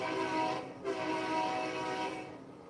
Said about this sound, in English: Okay, I'm not even pressing the horn, it's sticking